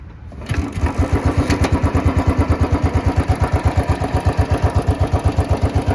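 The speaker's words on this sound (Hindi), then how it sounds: "भाई ये रही अपनी बुलेट। अब इसको करते हैं यहाँ से ऑन" An old Royal Enfield Bullet 350 single-cylinder motorcycle kicks into life and settles into a loud, close, evenly thumping idle, with a brief mechanical clatter at the start.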